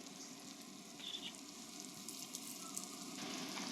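Yogurt being stirred into biryani in a cooking pot, with a steady close sizzle and frying crackle running throughout and soft scraping movements over it.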